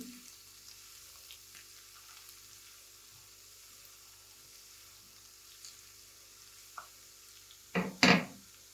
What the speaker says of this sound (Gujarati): ત્યારબાદ વઘારને આપણે થોડો ચલાવી લઈશું.